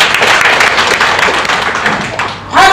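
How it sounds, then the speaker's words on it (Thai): Audience applause from a Thai business seminar crowd, a dense steady wash of many hands clapping, loud and continuous, with a brief lull near the end before it swells again. "ปรบมือแรงให้กับตัวเอง"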